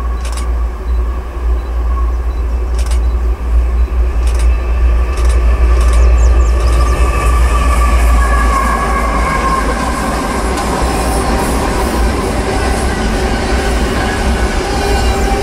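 A Norfolk Southern freight train rolls past in Hudson, Ohio, loud and close, with a deep continuous rumble, clattering wheels on rail joints and occasional sharp metallic squeals throughout; no talking.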